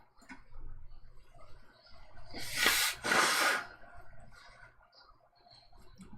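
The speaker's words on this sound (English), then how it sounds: "I gotta like blow my nose and stuff." A person blows their nose off camera with two loud forceful honks in quick succession, with quiet sniffles and breathing around them.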